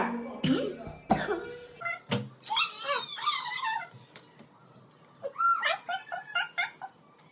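A young child gives several sharp coughs close by, with squeaky whimpering vocal sounds in between.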